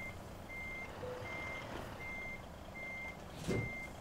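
A DAF XF Euro 6 truck in Euro Truck Simulator 2 sounds its reversing alarm: a steady series of about five evenly spaced beeps over a low engine rumble, ending with a brief air-brake hiss.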